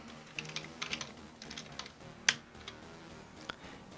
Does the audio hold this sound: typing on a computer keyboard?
yes